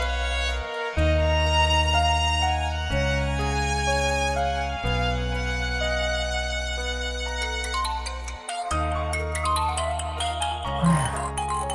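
A phone ringtone plays loudly and continuously, a repeating electronic melody with brief pauses between phrases, no voices over it.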